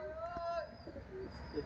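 Large pigeons held for sale coo softly in a loft, low murmuring calls repeating close by beneath steady background noise and someone talking.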